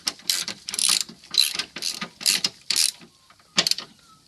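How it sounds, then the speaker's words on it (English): Impact wrench running up a bolt on a front sway bar bush mount of a 1999 Subaru WRX, a series of short loud rattling bursts with brief pauses, close up, no talk. "So we can start it with our impact to run it up like that."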